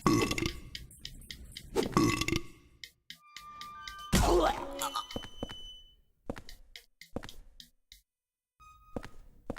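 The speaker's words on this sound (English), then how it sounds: "You're not gonna convince me that sound is not a burp." Burp-like belches in the Silent Hill 4: The Room video game: several loud, deep gurgling bursts, spaced a few seconds apart, with quieter thuds and knocks between them.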